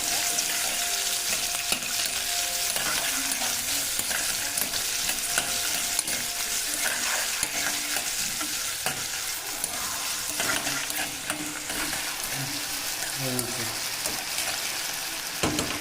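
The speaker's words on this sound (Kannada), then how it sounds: "ಗ್ಯಾಸ್ ಒಂದು ಸ್ವಲ್ಪ ಜೋರು ಮಾಡಿ ಇಟ್ಕೊಂಡು ಫ್ರೈ ಮಾಡಬೇಕು" Onions fry in oil in a pan over a high gas flame, giving a steady dense sizzle throughout with scattered crackles and occasional stirring scrapes, close and loud, with no talk.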